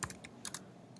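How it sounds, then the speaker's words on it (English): Typing on a computer keyboard while entering spreadsheet embed code, a handful of close, crisp keystrokes tapped in an irregular rhythm. "I'm going to type in height."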